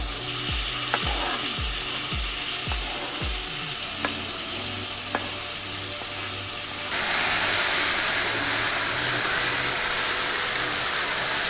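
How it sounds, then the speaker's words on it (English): Two chopped tomatoes hitting a hot pan with onions, dal and masala, first several scraping stirs and then a loud, steady sizzling hiss of frying. "Now I'm gonna add the tomatoes in there. So these are two chopped tomatoes"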